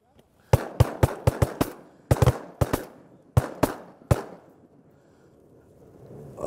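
Shotguns fire at ducks during a duck hunt in the cypress sloughs of Wabbaseka, Arkansas, a rapid volley of about a dozen sharp, close blasts in quick clusters, then quiet with faint murmuring afterward.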